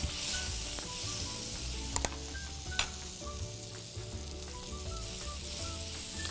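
Lurpak Soft butter melting in a hot pan with a continuous crackling sizzle and a few sharp pops, close and fairly quiet, with no voices.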